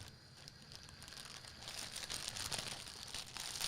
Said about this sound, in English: Open the package.